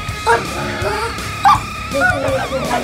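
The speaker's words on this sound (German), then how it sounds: "Und das furchteinflößende Bellen jagt selbst dem dreistesten Eindringling einen Schauer über den Rücken." A Dogo Argentino, one of the dangerous dog breeds, gives a few sharp barks and yips spaced across the moment, mixed under a narrating voice.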